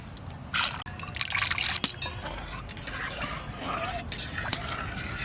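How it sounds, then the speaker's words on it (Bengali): Chana dal lentils are poured into hot water in a pot, giving a close run of splashing and trickling liquid with a sharp knock partway through. "জল গরম হয়ে গেছে, ডালটা দিয়ে দিচ্ছি।"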